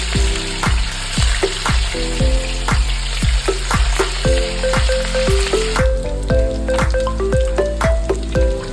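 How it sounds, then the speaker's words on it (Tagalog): Oil sizzles and crackles steadily as pork fries in a pan until crispy, with regular clanks of a spatula stirring throughout. "Iprito ang baboy hanggang maging crispy."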